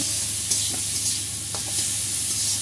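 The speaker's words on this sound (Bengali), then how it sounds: "এখন মোলা ভাজা হচ্ছে।" Small mola fish fry in a pan with a steady, close hiss of hot oil. A few faint stirring clicks punctuate the sizzle, and no one speaks.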